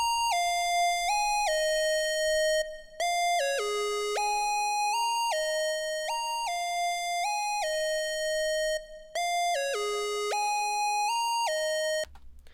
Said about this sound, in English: it's used as a transition lead, with a screamer also for the main melody